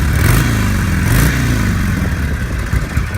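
A 2006 Harley-Davidson Sportster XL883 Custom engine runs loud and close, with a throaty, uneven V-twin rumble and brief swells in revs at the start.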